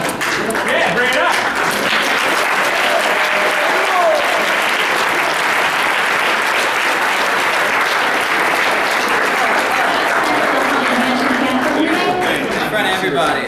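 A large convention audience at a Game Grumps panel bursts into loud, sustained applause with cheering, a dense steady roar of clapping lasting the whole stretch without letup.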